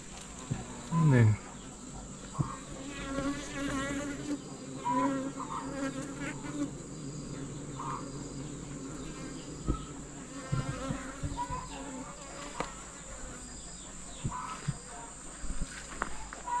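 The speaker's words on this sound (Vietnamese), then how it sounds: "Đây là những chiếc thùng ong được đặt ở phía sau nhà." Bees buzz steadily around beehive boxes set behind a house, a faint, continuous hum with scattered insect whirs, light footsteps and occasional rustling.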